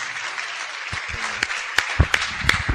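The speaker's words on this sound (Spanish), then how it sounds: "Denle un aplauso al Señor" A church congregation breaks into applause, claps growing sharper and denser over a couple of seconds, with a voice speaking briefly underneath in Spanish.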